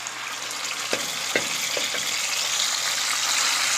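Cumin and ginger fry in hot oil that was already used for frying taro root, making a continuous loud sizzle with a few sharp spatters and stirring clicks and no talking.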